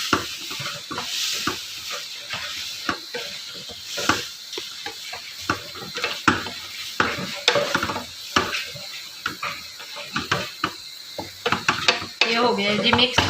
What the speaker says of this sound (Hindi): अब साथ ही ये गोभी डाल के मिक्स कर लेते हैं इसको